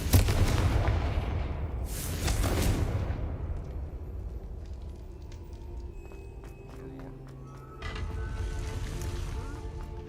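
Heavy booming blasts from the Confringo fire spell in Hogwarts Legacy, a video game, open the clip, then a second burst follows and ends in a fading rumble with faint scattered crackles, another swell near the end.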